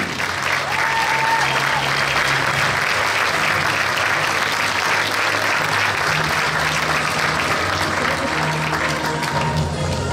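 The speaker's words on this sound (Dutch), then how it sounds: "Dames en heren, geef ze allebei een dadelijk applaus." Sustained audience applause at a Belgian Miss Asia Pacific national beauty pageant for two contestants, a dense continuous wash of clapping lasting about ten seconds with some tonal background sound.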